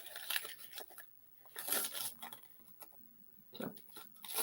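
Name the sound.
crumpling paper to make texture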